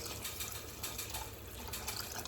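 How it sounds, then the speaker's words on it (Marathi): Water pours into a pot of chicken, a soft continuous splashing gush heard close and quietly, with no talking. "आणि याच्यात टाकायचे पाणी."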